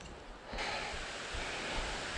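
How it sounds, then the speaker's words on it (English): Running water in the woods makes a faint, steady rushing hiss that swells slightly after a moment and keeps on without a break. "I hear water up there."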